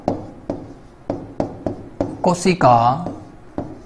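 Chalk or marker tapping and scratching on a board during a science lesson on cells, a steady series of sharp strokes about every half second, close, with a teacher's voice speaking briefly over them.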